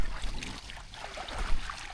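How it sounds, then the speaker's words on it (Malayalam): A boat moves across water off a Kanyakumari island, its steady broadband rush of engine and water churn close and continuous, rising slightly near the end, with no voices. "ഒരു ബോട്ട് എങ്ങോട്ടോ പോയി."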